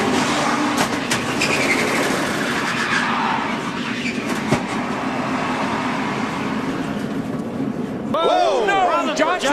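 A NASCAR stock car's engine roars from an onboard camera during a race, a loud continuous drone with shifting pitch and rushing wind noise, and excited commentary joins near the end.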